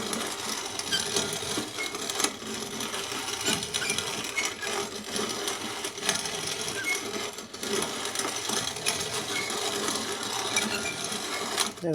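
Steady mechanical grinding of acorns into flour in a hand grain mill, a dense continuous rasping with rattling clicks running throughout, fairly close and unbroken.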